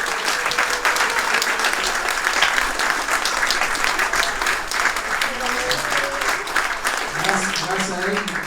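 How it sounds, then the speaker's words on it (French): Audience applause for a crime-fiction organizer at a French literary event, steady and dense throughout, with a few voices murmuring underneath and a brief lower sound near the end. "je serais d'avis quand même que vous applaudissiez à Aurélie"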